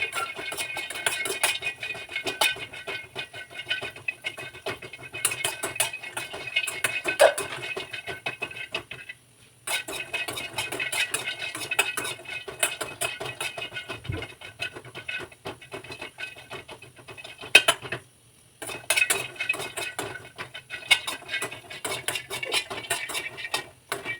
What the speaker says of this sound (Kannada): ಇವಾಗ ಕೊಬ್ಬರಿ ಹುರ್ಕೊತಾ ಇದ್ದೀನಿ.